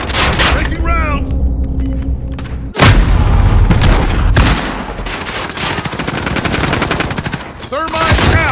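Heavy gunfire in Call of Duty Modern Warfare, loud bursts of automatic fire and booming explosions in close succession, with a sharp blast near the middle and voices speaking beneath the din.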